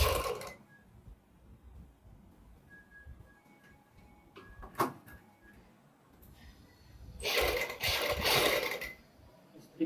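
A sewing machine stitches a kurti neck, with a brief whir near the start, a sharp click midway, and a louder, sustained run of stitching toward the end amid quiet handling sounds.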